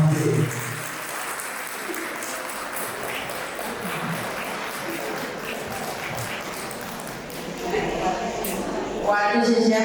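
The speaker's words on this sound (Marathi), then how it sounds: "या सर्व परिवारासाठी जोरदार टाळ्या" Guests at a 50th birthday celebration clap for the family in sustained, lively applause, with voices heard over the clapping.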